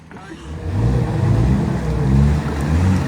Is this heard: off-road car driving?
yes